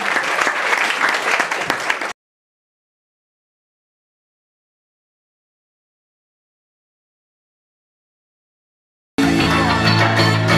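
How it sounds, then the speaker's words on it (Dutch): An audience breaks into brief, loud applause for about two seconds. Dead silence follows, then music starts at the end. "Applaus!"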